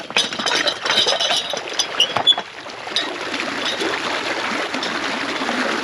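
Water rushing from a freshly opened irrigation valve into a field ditch, next to a second valve already running: a loud, steady broadband gush and splash outdoors with some brief knocks early on, no talk.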